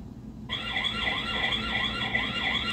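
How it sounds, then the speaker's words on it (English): A V380 Pro security camera's alarm siren kicks in after a brief pause and sounds as a continuous warbling electronic wail, steady and moderately loud, with no voices. "There's an alarm on this camera, this is a siren."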